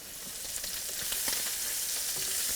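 Sockeye salmon bellies sizzle in a pan on an electric stove, a continuous close hiss of frying with faint crackles and no talking.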